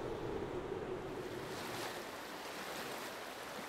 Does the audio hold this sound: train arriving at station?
no